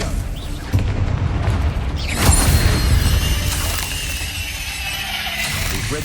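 A Confringo spell blast in Hogwarts Legacy: a sudden crackling impact followed by a heavier boom, then a sustained rumbling, fiery wash that lingers at close range under game sounds.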